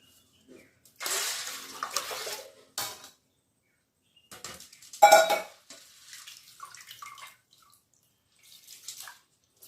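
Rice for idli is swished and rinsed in water in a few short bursts of sloshing and splashing, separated by quiet pauses.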